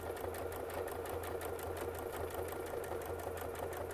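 A sewing machine runs steadily at a fast, even stitching rhythm while free-motion quilting, close and continuous with no talk.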